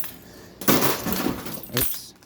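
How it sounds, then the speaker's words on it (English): A claw machine's glass panel slides open with a rough, close rumbling scrape lasting over a second, ending in a soft knock. "And then the glass slides open like so."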